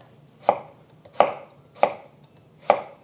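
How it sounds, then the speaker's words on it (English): A knife thinly slices vegetables into half moons on a cutting board, four crisp, evenly spaced chops, close and distinct against a quiet background. "I'm just gonna do half moons, or semicircles, I guess. Just thinly sliced."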